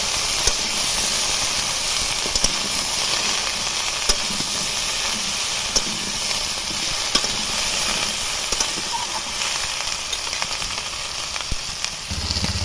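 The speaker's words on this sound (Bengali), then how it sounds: "এবার দেব ভেন্ডি ভেন্ডিটা দিয়ে ভালোভাবে কষিয়ে নেব" Okra frying in hot oil for a masala bhindi, giving a steady, loud, close sizzling hiss throughout with occasional faint clicks from stirring.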